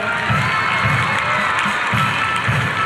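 An audience at a high school and junior college sports inauguration in Bhiwandi claps and cheers in a steady, continuous burst, with rhythmic clapping and shouts mixed into the crowd noise.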